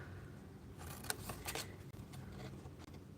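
Scissors trim a scored cardboard box piece with a few faint, close, crisp snips and cuts over quiet room noise.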